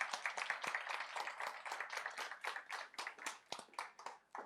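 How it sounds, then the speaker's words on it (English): An audience at the Women in Agrifood Summit 2023 applauds a speaker being introduced. Several pairs of hands clap close by in a sparse, uneven rhythm that carries on steadily for several seconds. "With a great round of applause, please introduce this little walk."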